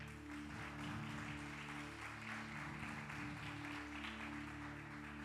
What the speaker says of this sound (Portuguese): Vamos aplaudir o Rafa.